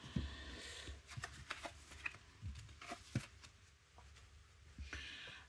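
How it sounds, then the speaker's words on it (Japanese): Tarot cards being shuffled by hand for a three-card reading, a continuous papery riffling and slapping with repeated crisp flicks, close and fairly quiet, with no voices. "とりあえず一回3カードで占ってみようと思います。"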